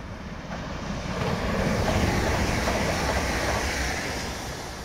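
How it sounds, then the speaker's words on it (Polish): A local train passes by trackside in Bischofsheim, a broad rushing rumble that swells to a peak and then fades away, with wind buffeting the microphone and no voices. "przejazd kolejnego lokalnego pociągu"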